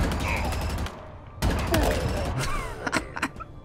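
Rapid, loud plasma cannon bursts in Halo Infinite, a continuous barrage that breaks off, resumes hard, then tapers into scattered separate shots with enemy grunts and groans mixed in.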